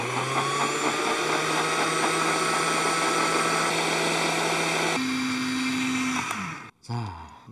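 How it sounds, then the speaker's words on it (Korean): A blender grinding eggplant cream whirs loudly and steadily, shifts to a higher pitch, then cuts off briefly before spinning up again. "믹서에 넣으셔서 갈아주시기만 하면 돼요"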